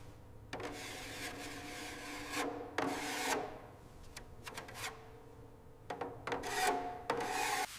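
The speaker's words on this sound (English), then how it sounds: "Each panel is sanded, inspected, and corrected with precision, ensuring original geometry is preserved." Sanding strokes scrape over the metal body panel of a 1936 Bugatti Type 57 Atlantic in restoration, coming as close, rasping bursts of a few seconds each with short pauses between them.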